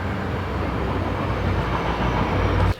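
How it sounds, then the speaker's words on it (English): A train passes close by a residential lawn, its loud steady rumble and rolling roar filling the whole stretch before cutting off abruptly, with no talking. "Train."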